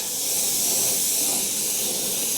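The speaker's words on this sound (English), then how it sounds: "I'm just going to spray lightly around" Continuous airy hiss of an airbrush spraying paint lightly over a template, steady and close, with no voices.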